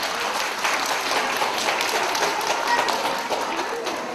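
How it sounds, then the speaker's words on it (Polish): Dense, steady applause from an audience at the ninth children's song festival in Czarne, Poland, 2016, filling the hall at an even level throughout without a break. "Duże brawa, duże, duże, duże."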